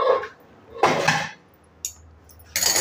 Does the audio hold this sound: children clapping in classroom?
no